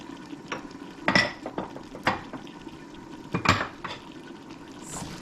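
A spoon stirs basil and thyme into a pot of curry with shrimp and potatoes, giving a few distinct metallic clinks and scrapes against the pot over a soft, steady bubbling simmer.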